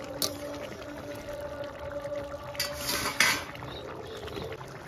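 Metal pot lid lifted and a spoon stirring a thick boal fish curry with potatoes, producing faint clinks and scraping over a low kitchen hum, with a louder clatter near the end.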